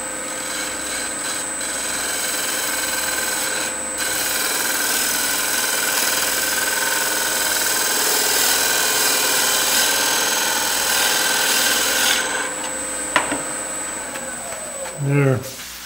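A wood lathe motor drones steadily with a high whine and scraping tool contact while turning a barley-twist wig stand, continuing for a long stretch before a short voice at the end.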